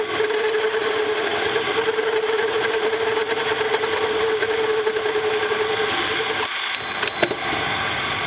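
A ring is cut from a part of the front cover of a Ural motorcycle, a steady, loud grinding rasp of the tool on metal that runs without a break, with a brief dip and faint clinks near the end.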